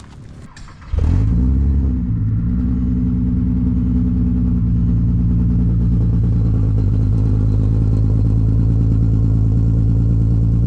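Volkswagen MK4 TDI diesel engine cranks over and catches about a second in, then settles into a steady, loud, close idle with a low clattering rumble that holds to the end, no talk over it.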